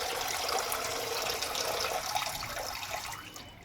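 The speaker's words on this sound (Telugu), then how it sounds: "ట్యాప్ మెల్లగా చెయ్యి కొంచెం." A tap runs water into balloons during a Holi celebration, a steady close gushing stream that holds level and then eases slightly toward the end, with no talking.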